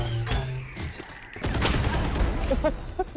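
Rapid bursts of gunfire in the tactical shooter game Valorant ring out, sharp repeated shots with a short pause before a denser volley, loud and close, with brief game effects around them.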